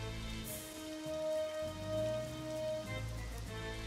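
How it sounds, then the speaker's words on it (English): Nighttime rain in a World War II strategy game falls as a steady soft hiss, faint and continuous under droning game music. "it's raining at nighttime now"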